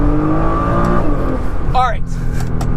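A 2014 Nissan GT-R accelerates hard with a quick short shift and downshift into corners, its engine note rising and dropping close by, while someone talks over it.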